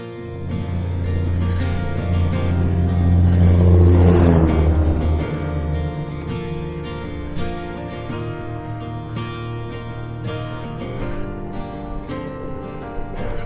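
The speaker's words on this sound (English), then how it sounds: "that truck is earning its pay right there" A truck engine revs up on rough narrow ground, a rising roar that peaks loud around the fourth second then eases to a lower rumble, with repeated knocks and clatters from the bumpy ride.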